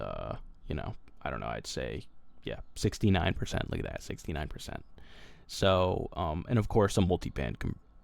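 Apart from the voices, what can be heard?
No everyday noise stands out behind the speech.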